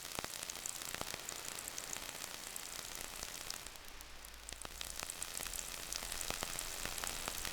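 A dense, hissing wash of synthetic rain noise from a Polygogo oscillator patters like rain, with scattered sharp clicks over a steady sizzle and a brief dip in the middle.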